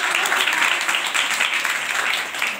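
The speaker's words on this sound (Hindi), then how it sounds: "तालियां बजा दीजिए।" Students at a school farewell ceremony clap together in steady, continuous applause, a full and fairly loud patter of many hands that runs evenly without any voices.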